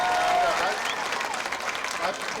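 Spectators at a high school football event applaud an announced pair, a moderate burst of clapping that holds steady and slowly thins, heard at some distance.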